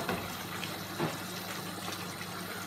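Water pouring steadily into a pan of chicken paella as it cooks, a continuous close gushing wash with a couple of brief splashy surges and no voices.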